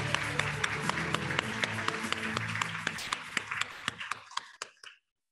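Applause at a quantum information competition award ceremony greeting a presenter, a crowd clapping that starts dense, thins into scattered individual claps and fades out to silence near the end.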